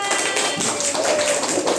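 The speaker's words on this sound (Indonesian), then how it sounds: "Beri tepuk tangan" Brief burst of audience applause in a classroom setting, a dense patter of clapping hands filling the short moment.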